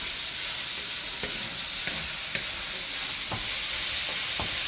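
Beef sizzling as it is stir-fried in a wok for fried rice: a constant crackling hiss punctuated by a series of soft scraping stirs at irregular intervals, fairly close, with no talking.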